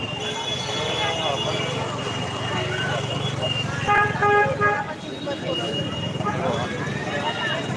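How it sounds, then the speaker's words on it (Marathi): Busy road traffic on a shortcut street in a Mumbai market area, with a car horn tooting briefly in the middle over steady engine rumble while someone talks. "फुल ट्रॅफिक आहे फुल ट्रॅफिक"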